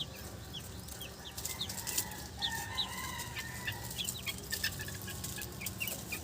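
Chicks and chickens in a pen cluck and peep in scattered, overlapping calls over steady outdoor background noise, fairly faint and at a middle distance, with no talking.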